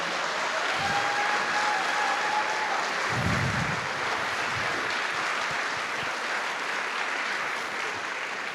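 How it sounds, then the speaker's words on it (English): Sustained audience applause after a school band performance at a spring concert, a dense, steady wash of clapping that holds loud throughout and eases only slightly toward the end. "Give them another round of applause."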